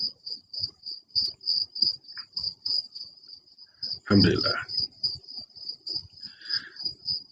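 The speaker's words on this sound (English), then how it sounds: "So that's what you hear, crickets." Crickets chirp at night near a porch in a steady, rapid, evenly pulsed trill that runs throughout, fairly prominent beneath someone speaking.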